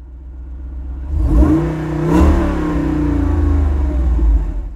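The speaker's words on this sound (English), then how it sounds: "Still pretty loud, but when you open it up" A Whipple-supercharged custom Jeep Wrangler 392 with its performance exhaust opened up revs loudly up close, a deep throaty roar swelling in a couple of surges and holding a heavy rumble.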